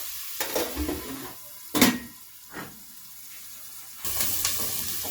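Onions fry in a pan until golden brown, with a steady low sizzle broken by a few scraping stirs and bursts of hiss, close up.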